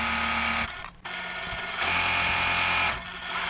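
A sewing machine stitches quilt pinwheel pieces in short close bursts, whirring steadily, pausing briefly, then running again with no voices.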